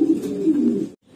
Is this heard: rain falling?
no